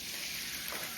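Butter sizzles hard in a frying pan with steak: a brief, dense, steady hiss heard close up with no other sounds.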